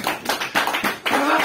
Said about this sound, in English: Let's clap, man.